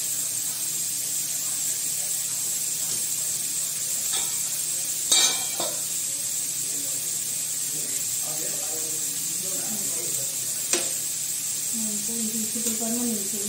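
Gobi manchurian cauliflower pakoras frying in oil, with a steady close hiss and sizzle throughout, a few utensil clinks, and a voice talking over it.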